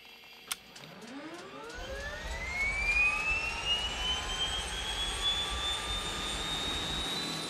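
An old propeller aircraft engine starts up after an ignition click, the turbine whine climbing steadily in pitch and settling into a loud, sustained rising tone with a rumbling roar beneath, no voices heard.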